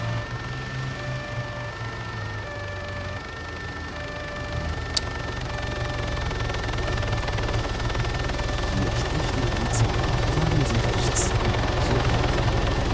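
Helicopter in the Arma 3 game setting, a steady rotor and engine drone that builds slightly louder over time, with a couple of faint sharp clicks and no talking.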